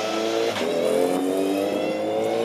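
A Formula 4 race car pulls out onto the Snetterton track, its engine revving hard and rising in pitch as it accelerates past, loud and close for a couple of seconds.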